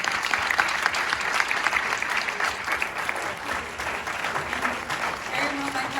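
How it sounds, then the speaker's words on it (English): A theater audience breaks into sustained applause, dense clapping that holds steady and fills the room for several seconds. "So please, one more round of applause for"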